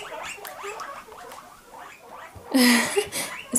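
Several guinea pigs squeak loudly and repeatedly in rising, excited wheeks before their veggie time, a close chorus of overlapping calls that swells into a louder burst near the end.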